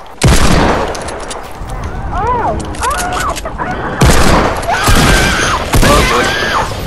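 Gunfire from a Desert Eagle pistol in Fortnite: a loud shot opens, then several more heavy reports follow at uneven intervals. Voices talk between the shots.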